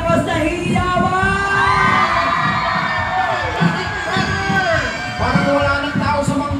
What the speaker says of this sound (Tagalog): Tignan natin Barangay Manggahan sa malakas na hiyawan!